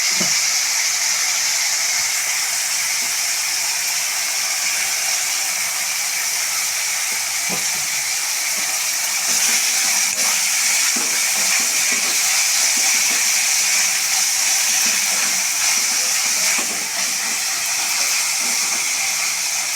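Onions and tomatoes sautéing with salt in a pan for a dalcha curry, a steady loud sizzle and steamy hiss running throughout with faint scrapes, close and unbroken, no voices.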